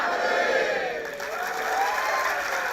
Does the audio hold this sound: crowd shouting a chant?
yes